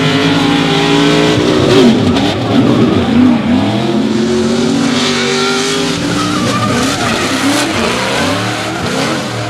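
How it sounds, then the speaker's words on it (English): Two V8-powered drift cars race at a drifting championship round in Christchurch, their engines revving hard and rising and falling with tire squeal, loud and close throughout without any talk. "two V8 powered machines battled"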